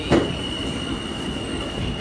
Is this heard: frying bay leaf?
no